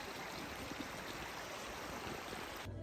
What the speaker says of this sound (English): I had to fill up my water, so I used my water filter